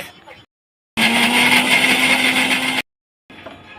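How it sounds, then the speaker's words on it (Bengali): A mixer grinder grinds a paste in one loud, steady whirring burst of about two seconds, cut off sharply, with quieter household noise before and after. "এখন বান্ধবী দিয়ে গেছে একটু বেটে দিতে বলছে, তাই একটু বেটে দেব"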